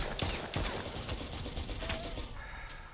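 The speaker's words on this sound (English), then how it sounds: "You're shooting me through the walls," Rapid bursts of gunfire ring out in a tactical first-person shooter game, several sharp shots in quick succession over a dense, noisy backdrop, fairly loud throughout.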